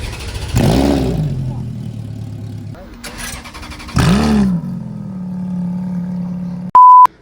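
Sports car exhausts at a Deauville car meet roar in loud, close revs and accelerating passes, with gaps and a brief electronic beep near the end.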